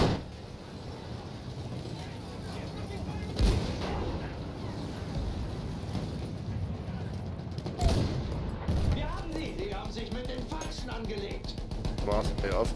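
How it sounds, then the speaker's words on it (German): Battlefield 1 gameplay with constant gunfire and distant booming artillery, with a few sharper blasts standing out, under nearly continuous German speech. "diese Schüsse sind gefährlich!"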